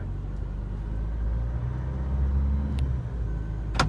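A 2016 Isuzu D-MAX 1.9 Ddi Bluepower automatic pickup drives through its gears, heard as a steady low engine drone from inside the cab with a brief click near the end, no talking.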